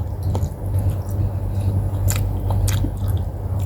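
Someone eats pakbet Ilocano up close, with wet bites, squishy chewing and occasional crunches, loud and continuous with no talking.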